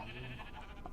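A sheep bleating in Minecraft, a single brief wavering bleat, close and clear, lasting about a second.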